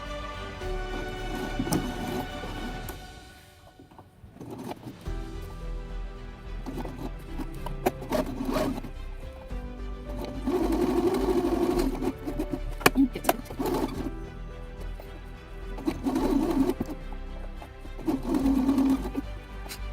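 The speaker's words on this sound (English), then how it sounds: "We're going to sew around here, and we're going to stop at the same spot on the other side." A home sewing machine stitches fabric for a silverware sack, running in bursts of rapid mechanical whirring with short pauses between runs, close and fairly loud.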